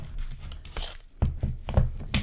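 Tarot cards are shuffled by hand in close, quiet ASMR style, soft papery riffles and taps arriving in irregular bursts, with a run of sharper slaps near the end.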